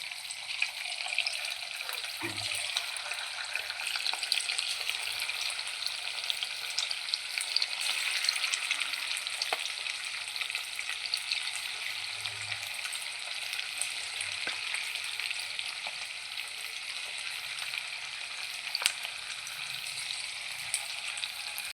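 Steady oil sizzle of chicken pieces frying, loud and continuous throughout, with a few faint clinks and stirring knocks near the pan.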